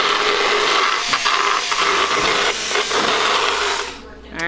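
A power tool grinds down a horse's sharp, jagged teeth during a veterinary dental float, a steady continuous whirring rasp that runs loud and close for several seconds before easing off at the end.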